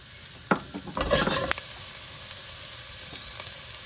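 Garlic sizzles in about four tablespoons of oil for a prawn ambot tik, a burst of crackle and stirring near the start settling into a quieter, steady hiss.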